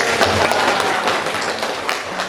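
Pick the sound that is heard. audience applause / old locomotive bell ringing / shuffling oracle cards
audience applause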